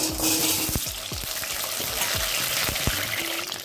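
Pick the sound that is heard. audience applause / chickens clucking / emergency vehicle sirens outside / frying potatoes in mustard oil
frying potatoes in mustard oil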